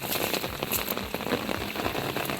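Steady rain falls outdoors near a fishing spot, a dense continuous patter of drops striking surfaces at close range, with no voices.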